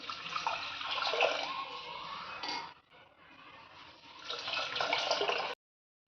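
Water pours steadily into a cooking pot over frying chicken gravy, a close splashing rush that briefly dips and softens midway, then resumes before stopping abruptly.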